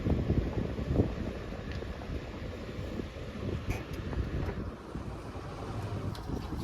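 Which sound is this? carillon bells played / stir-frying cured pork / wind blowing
wind blowing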